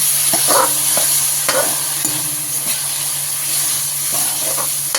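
Onions sauté in oil for noodles, a continuous close hiss and sizzle with repeated soft scraping and stirring knocks from a utensil against the pan, and no speech.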